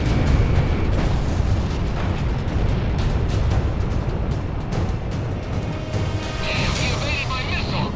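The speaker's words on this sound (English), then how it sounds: "He evaded my missile. Missile missed its target." Missile launches and explosions in an Ace Combat air-combat game, a continuous dense wash of booming blasts and roaring jet noise, loud throughout with a brief higher warning tone near the end and voices talking over it.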